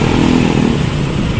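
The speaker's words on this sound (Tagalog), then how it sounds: "O, napakadaming motor dito." Motorcycle engines drone loudly on a busy street crowded with motorbikes, a steady, close, rumbling roar with slight revving swells and no speech over it.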